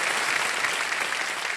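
Studio audience on the quiz show Kaun Banega Crorepati applauding a winner: a dense, continuous wash of clapping from many hands, steady and fairly loud with no gaps.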